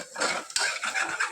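A spoon clatters and scrapes against a pot while stirring tamarind juice simmering in a tempering for bagara rice, with repeated metallic knocks and scrapes close up.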